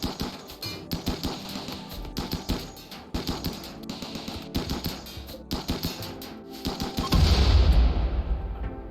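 Gunfire in RimWorld tears into base turrets as rapid, sharp bursts of shots in an uneven rhythm, followed by a heavier, louder roar near the end.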